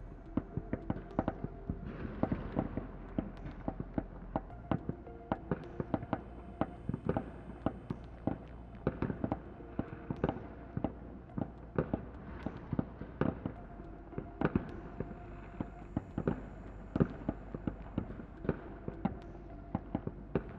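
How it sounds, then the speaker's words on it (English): Rifle gunfire aimed at a bunker during fighting in Donbas, a long run of sharp cracking shots in uneven rapid bursts over a low rumble, with no talk. "5 Russian soldiers with rifles opened fire on the bunker."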